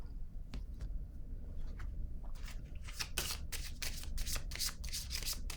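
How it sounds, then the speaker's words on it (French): A tarot card is laid down with soft papery rustles and light slides, a cluster of quick close brushing sounds in the later half over a low background hum. "Je vais déposer une autre carte."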